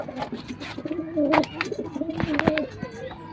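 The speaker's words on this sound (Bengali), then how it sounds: "এটা নর কবুতর, ডাকলেও খুব সুন্দর লাগে" A male pigeon coos in low, rolling calls at close range among other pigeons, with a few sharper bird sounds and rustling, and a person's voice in the background.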